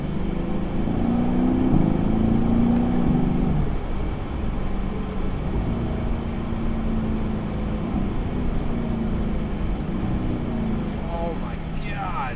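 A Mercedes-Benz AMG C engine revs and accelerates on a light throttle, a loud close drone with rising pitch sweeps and gear changes throughout, with someone talking over it.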